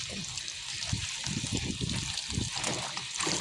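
Water runs steadily and strongly from a tap with splashing and trickling as food is rinsed under the stream, close by and fairly even in volume.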